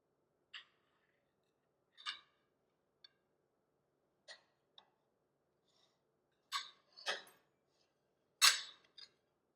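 A knife cuts through a white cake with caramel buttercream icing, giving scattered soft scraping and tapping sounds, close and quiet, spaced irregularly with silence between.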